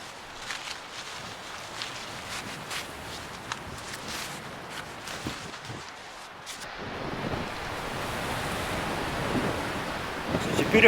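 Strong wind blowing across open ground at night during a storm while camping without a tent, a steady rushing roar with gusts that swell louder toward the end, close to the microphone.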